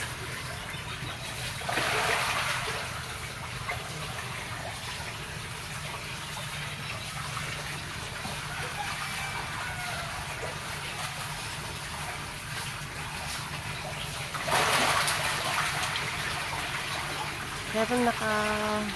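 Fish thrash in the shallow water of a small farm fish pond, giving two sudden bursts of splashing over a steady trickle of running water, while a person talks throughout.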